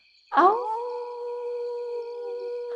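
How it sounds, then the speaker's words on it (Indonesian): A wolf lets out one long, clear howl that rises sharply and then holds a steady tone for over two seconds, loud and alone in a quiet night. "Lolongan itu akhirnya kembali terdengar."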